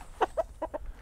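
A homestead rooster clucks while being handled, giving four or five short, close clucks in quick succession over faint background noise.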